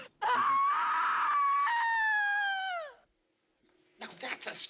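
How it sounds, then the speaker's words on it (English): A piercing, sustained scream from a 1981 thriller film, loud and close, holding one high wavering pitch for nearly three seconds before sliding down and cutting off; after a pause, a voice talks. "Now that's a scream!"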